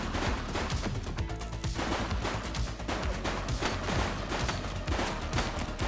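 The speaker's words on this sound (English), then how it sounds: "Shots fired!" Gunshots in The Precinct, a dense, rapid fusillade of loud cracks and bursts firing continuously and close over a steady background roar.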